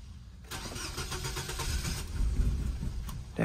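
Gasoline car engine with diesel fuel in the gas tank cranking for about three seconds, a rapid rough churning at moderate level, then starting with a final burst.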